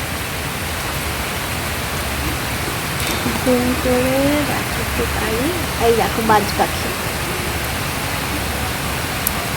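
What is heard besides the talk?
rain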